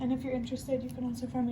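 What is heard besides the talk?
No everyday noises stand out.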